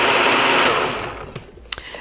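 A blender whirs loudly through crepe batter, then spins down and fades, leaving a few faint clinks and knocks at the end.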